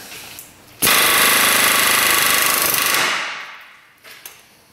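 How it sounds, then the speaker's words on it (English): A pneumatic air hammer bursts into loud, rapid hammering on a crusty ball joint bolt of a Ford Explorer Sport Trac for about two seconds, close and harsh, then winds down into quieter background noise. "first bolt to hit with the air hammer"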